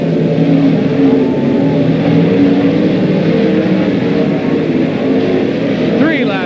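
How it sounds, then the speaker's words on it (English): Sportsman race cars roar around Silver Spring Speedway in a 1994 Sportsman 100 race, a continuous loud engine drone with passing whines. A race commentator talks over the engines throughout. "Underneath the 29 car of Todd Bayshore, it's Carl Billett as he makes his quest up to Dave Eitner."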